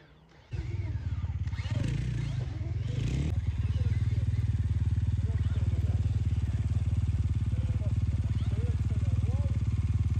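Stark Varg electric motorcycle riding, a steady close motor whine with wind rush and rolling noise that rises sharply after a second, with a voice speaking briefly over it.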